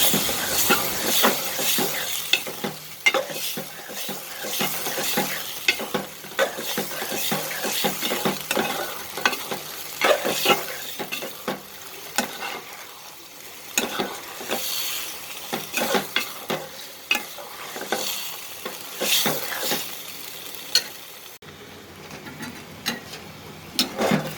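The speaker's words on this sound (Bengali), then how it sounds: "এখন একটু ভাজা জিরার গুঁড়া দিয়ে ভালোভাবে নেড়ে চেড়ে নেব শুকানো না পর্যন্ত নাড়তে থাকবো" Colocasia greens cooked with hilsa fish head and roasted cumin powder are stirred in a pan, a steady run of scraping and clinking spoon strokes over a soft sizzle, close and fairly loud, with no talking.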